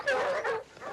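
Dogs give a quick pair of sharp barks and yips, fairly close and brief.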